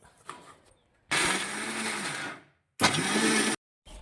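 A mixer grinder whirs loudly through ginger garlic paste in two bursts, the first longer and the second shorter, each stopping abruptly into near silence.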